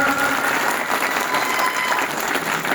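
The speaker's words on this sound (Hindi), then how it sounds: "भाई साहब नरेश मीणा का स्वागत करते हुए जोरदार तालियों की गड़गड़ाहट।" Villagers at a Kotdi by-election gathering give Naresh Meena a loud welcome of sustained applause, a dense, even roar of many hands clapping throughout with no break.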